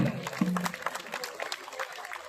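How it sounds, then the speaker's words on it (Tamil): An audience at a folk dance troupe's debut performance in Annur, Tamil Nadu, gives a short round of scattered applause that fades over a couple of seconds, with a voice briefly heard at the start. "கொஞ்சம் போய் கைத்தட்டு கொடுங்க"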